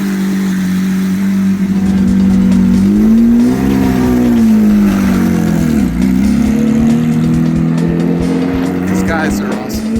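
A loud Porsche GT3 Cup race car engine drones steadily on a track, its pitch rising and falling as it revs, close and continuous throughout.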